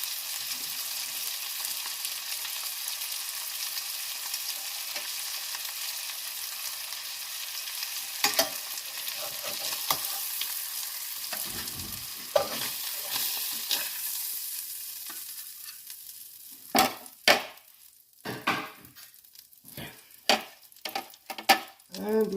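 Sea bass fillets pan frying, a steady close sizzle that thins out midway, followed by a series of sharp knocks and clatters from pan and utensils toward the end, with no talking.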